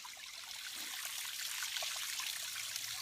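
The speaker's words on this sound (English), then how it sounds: "Just a little small creek, something nothing big." A small creek in a wildlife management area trickles steadily, a soft continuous burble of running water with no voices.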